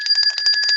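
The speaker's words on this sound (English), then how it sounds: "Ring the bell." A bright bell rings in quick repeated strikes on a weather talk show, a loud, close, steady ringing trill lasting under a second with no talk over it.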